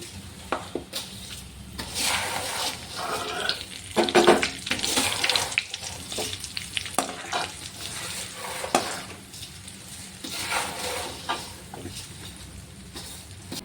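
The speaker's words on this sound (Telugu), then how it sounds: "అలాగే కొద్దిగా అటుకులు కూడా వేసి వేయించుకుంటున్నాను" Flattened rice (poha) frying in oil crackles and sizzles with irregular bursts and rustling, like stirring, rising and falling at moderate loudness without any speech.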